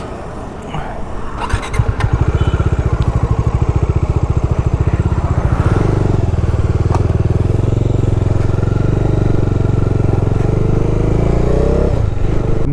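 Bajaj Dominar 400 motorcycle engine on a highway between Tirupati and Bangalore, pulling away and revving up into a steady, loud, close drone with rhythmic thumping, then holding constant with wind rush.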